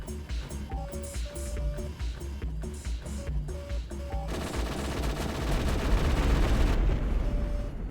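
A turret firing in the video game G-Police 2: Weapons of Justice: repeated rapid bursts of gunfire over tonal game music, then a dense, sustained barrage of shots that swells louder before easing off.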